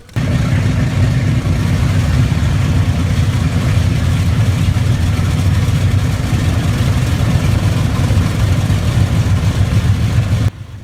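A World War II Hellcat fighter airplane's piston engine runs at a steady, loud, deep rumble for about ten seconds before cutting off abruptly.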